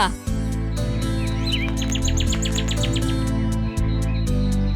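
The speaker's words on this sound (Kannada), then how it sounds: "ಇದ್ರ ಹೆಸರು ಕಾಡು ಪಾರಿವಾಳ" Birds chirp in a series of bright, quick calls over a loud, steady low hum, with a soft cooing wood pigeon beneath.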